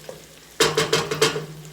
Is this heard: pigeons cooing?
no